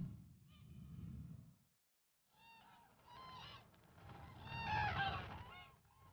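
Geese honk in loud, close bursts, falling briefly silent before a denser overlapping chorus of nasal calls builds toward the end.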